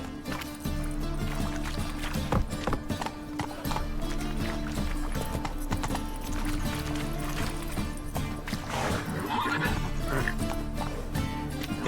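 Roach, Geralt's horse in The Witcher 3: Wild Hunt, gallops with steady rhythmic hoofbeats under constant game music and ambience, joined by a brief whinny.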